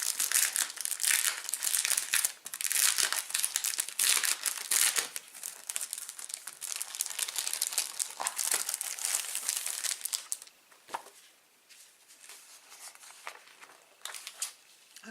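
Paper from a craft kit is pulled off and crumpled, a loud, dense run of crinkling and rustling for about ten seconds, then fainter scattered rustles with no talking.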